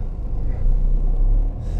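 Deep, steady in-cabin drone of a small car's 500 Nm engine pulling at low revs, swelling slightly midway and carrying on without any voices.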